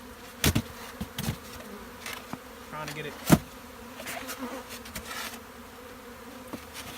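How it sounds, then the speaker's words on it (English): Honey bees buzz steadily around a hive, a low drone broken by several sharp knocks and bumps, with a few brief spoken words. "we're probably going to have a lot of bees coming out of the front of this"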